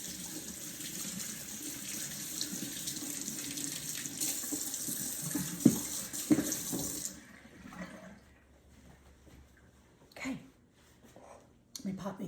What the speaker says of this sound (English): let me rinse my hands really,